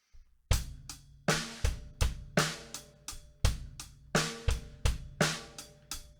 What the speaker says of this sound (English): this is a very common way to syncopate the snare drum, and that's to put it onto the and of 3.